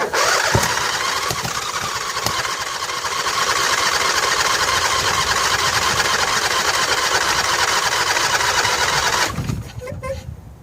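A Briggs & Stratton Entek 22 HP twin engine on a John Deere L118 mower runs loud and steady with a rough, buzzing roar, then cuts out abruptly near the end, leaving quieter clatter.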